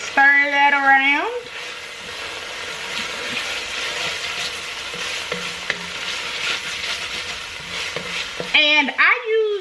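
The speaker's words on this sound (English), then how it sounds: "we'll put a tablespoon of garlic in here and just stir that around" Garlic stirred into browned ground beef in a pot, a loud continuous sizzle with occasional spoon scrapes; a voice talks briefly at the start and again at the end.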